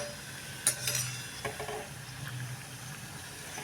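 Semolina shankarpali fry in hot oil while being stirred, giving a soft steady sizzle with a few sharp metallic scrapes and clinks of the spoon against the pan early on.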